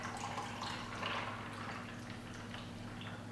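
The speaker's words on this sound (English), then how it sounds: "Now get a cup with ice in it if you want it to be cool. And then pour slowly" Lemonade poured slowly into a cup over ice, a steady trickling splash with faint clinks, close by and moderately quiet against a constant low hum.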